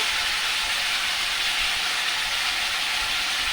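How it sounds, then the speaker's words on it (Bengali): Onion, ginger, garlic and spices fry in hot oil in a wok, giving a loud, steady sizzle that hisses without pause throughout. "কড়াইতে তো গরম তেলে তো যে কোনো জিনিস পরে তো একটা ভাব ওড়ে"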